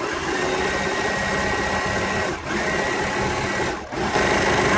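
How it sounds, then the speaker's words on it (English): A serger runs steadily, stitching and trimming the fabric of a kitchen towel panel, with a loud, close, continuous mechanical whir that dips briefly twice. "get that fabric started under there so that the machine's got something to bite on, and we're going to go ahead and serge."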